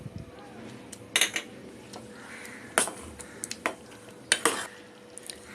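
A Malvani bangda (mackerel) curry stirred in a pot over medium heat, with sharp intermittent clinks and scrapes of a ladle against metal over a faint simmering background.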